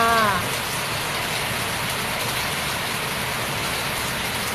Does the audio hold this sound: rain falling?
yes